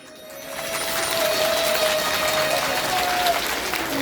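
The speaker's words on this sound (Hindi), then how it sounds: "ताली जोर जोर से बजानी चाहिए" Audience at a Devi Bhagwat Katha breaking into loud applause, clapping swelling within the first second and holding dense and sustained, with a thin tonal whine running through it.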